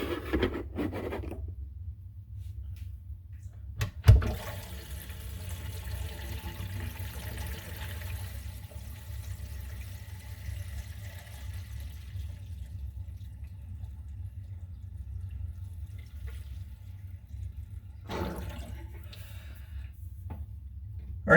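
Water from a filled bathroom sink draining through newly glued ABS drain pipe, a low continuous rushing and gurgling that holds steady for most of the stretch, with a sharp knock early on and a brief rise near the end.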